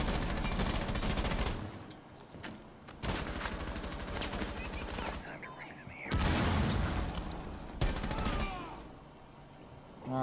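Rapid gunfire in Rainbow Six Siege comes in loud automatic bursts through a wall, with pauses between volleys and game sound effects filling the gaps.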